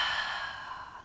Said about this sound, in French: Inspire. Et expire par la bouche.